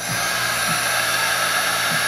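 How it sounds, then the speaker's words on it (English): A heat gun or hair dryer blows with a steady, loud whirring rush that continues without a break, close by, heating shrink wrap on a vape battery. "break out your handy heat gun or lighter or hairdryer"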